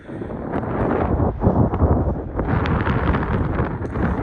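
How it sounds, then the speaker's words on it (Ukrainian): Steady wind buffeting a microphone outdoors in a farm field during sunflower sowing, a loud continuous low rumble with gusting swells and no voices. "Вітер, правда, такий, що суше дуже швидко."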